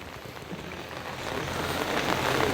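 Rain falling on a property in Coorg, a dense steady hiss of drops on surfaces that builds gradually louder over a few seconds, with no talking.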